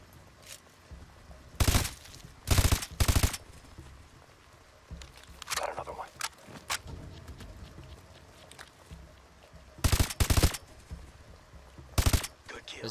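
Gunshots in Call of Duty: Advanced Warfare, a few sharp, loud cracks arriving in short clusters with quiet gaps between them, while a voice talks faintly in the background.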